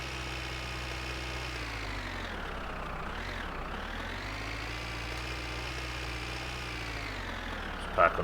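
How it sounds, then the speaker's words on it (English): The car engine in the game My Winter Car runs continuously for eight seconds, a close and steady drone whose pitch dips once and then climbs again, with a short knock right at the end. "we can hear the engine roar"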